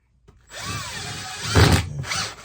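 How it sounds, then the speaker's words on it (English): A power drill drives screws at an angle into a rotten camper floor under repair, a close whirring run that surges louder midway, then stops briefly before a second short burst. "I'm running these at an angle because I don't want my screw coming out the bottom side of that."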